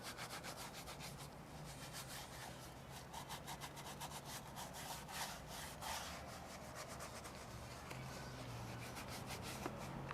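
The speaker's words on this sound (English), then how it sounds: "So just come back, scrub it out." Brush scrubbing a car's interior surface during a deep clean for odors, a quiet, rapid back-and-forth scratchy rubbing that goes on steadily throughout, close up and without speech.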